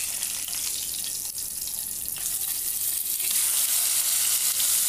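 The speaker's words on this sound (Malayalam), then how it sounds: "ബാക്കി രണ്ട് മീൻ ഞാൻ വറുക്കാനായിട്ട് ഇട്ടിരിക്കുകയാണ്. അതേ വെളിച്ചെണ്ണയിൽ തന്നെയാണ് കേട്ടോ." Pomfret fish frying in coconut oil gives a steady, close sizzling hiss that holds for several seconds, with faint stirring and a slight swell in intensity toward the end.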